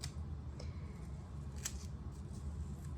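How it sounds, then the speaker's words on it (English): A knife slices an onion into rings on a board, a few quiet, crisp cuts spaced irregularly over a soft background. "I'm gonna cut them in rings."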